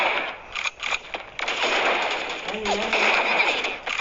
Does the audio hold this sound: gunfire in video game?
yes